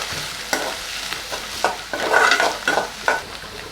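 Chopped onions sauté and sizzle in hot oil for a potato and capsicum gravy, with a spoon scraping and stirring in bursts; the frying is loud and close, and no voices are heard.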